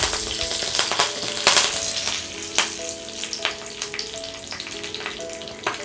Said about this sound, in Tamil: மசாலா பொரிஞ்சதும் அதில் கொஞ்சம் கருவேப்பிலை சேர்த்துருங்க